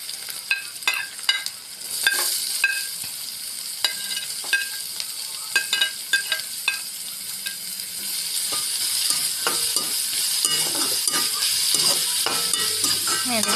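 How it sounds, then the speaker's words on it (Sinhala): Onions and green chillies frying in oil for homemade rolls, with a steady sizzle that builds through the clip and sharp scrapes and clinks of a spoon stirring in the pan. "මේ දෙක පොඩ්ඩක් තෙල් එකේ බැදෙන්න දෙන්න."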